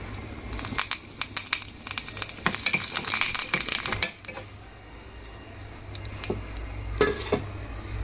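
Chillies, urad dal and curry leaves crackle and sizzle in hot oil for a peanut chutney tempering, with steady frying hiss, sharp pops and occasional utensil clinks close by, no talking.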